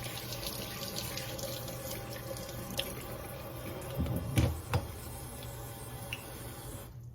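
A Dash mini waffle maker being rinsed under a running kitchen tap: a steady stream of water hisses throughout, with a few louder splashes and gurgles midway as the appliance passes under the flow.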